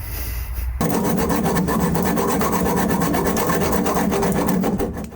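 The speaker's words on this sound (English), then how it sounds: "Hacksaw. Gonna cut the thing off." A hacksaw cuts off a fog lamp on a Porsche 356 being stripped for restoration, a steady rapid rasping of back-and-forth strokes, loud and close, running without pause after a brief quiet start.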